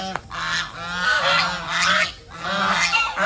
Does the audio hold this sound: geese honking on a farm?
yes